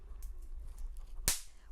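A single estalinho snap-pop firecracker, thrown during a festa junina, cracks once with a sharp, bright, close pop over a low background rumble.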